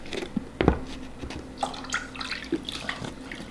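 Running water splashes and trickles, with a few clinks and drips, as dusty Red Wing Iron Ranger leather boots are cleaned with soapy water; no one speaks.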